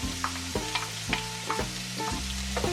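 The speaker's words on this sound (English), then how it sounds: "I'm coming back now with half of a medium yellow onion finely diced." Finely diced yellow onion sizzles steadily in bacon grease, a loud, close frying hiss with periodic scrapes and clacks of a utensil stirring through the pan, no voices.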